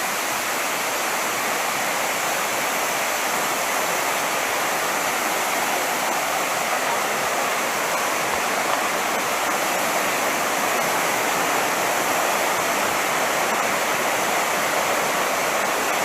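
The Arekkal waterfall gives a steady, loud, unbroken roar of rushing water that fills the whole stretch without pause.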